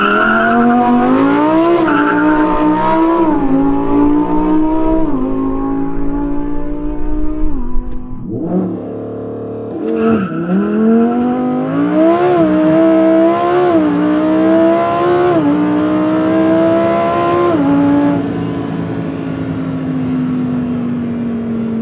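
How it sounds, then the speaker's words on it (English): Lamborghini Huracan STO with a titanium Akrapovic exhaust doing a launch control start, a loud raw engine howl climbing through rising gears with a brief drop at a shift, then more pulls before easing off. "Let's show you a launch control from 0 to 100 before ending this episode."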